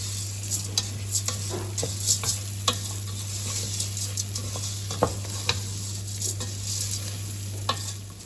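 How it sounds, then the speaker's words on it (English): Rice being stirred into hot oil in a pan while making arancini, with soft scraping strokes and a low sizzle over a steady hum, no talking. "you're just going to stir that a little bit so the rice gets all covered in the oil there"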